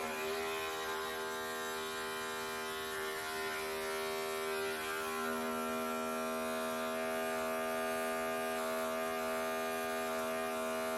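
Electric hair clippers with the guard closed hum steadily and close up during a self haircut, a constant buzzing drone with no breaks for the whole stretch.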